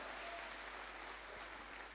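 An audience at a Safe Shop event applauds, a faint, steady wash of distant clapping filling the whole stretch with no voices over it.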